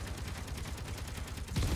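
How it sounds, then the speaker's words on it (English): Small grid Gatling turret in the Space Engineers video game firing a continuous rapid burst of dense, rattling shots, loud and alone. "this is the small grid Gatling turret"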